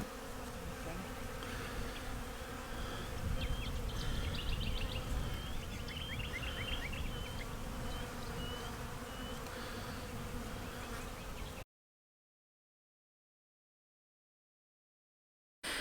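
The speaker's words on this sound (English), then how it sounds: "Look at all the bees on this one as well." A steady, dense buzzing of many bees close by on a blossoming orchard tree in spring, continuing for several seconds before cutting to silence.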